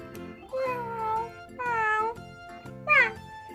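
Three distinct cat meows, each a drawn-out, rising-and-falling cry, separated by short pauses, close and clear.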